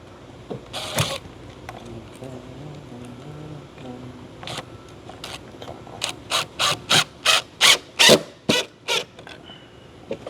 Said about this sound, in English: Go ahead and put the screw in there.